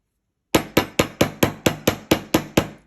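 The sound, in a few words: hammering the length of wire for a wire-wrapped ring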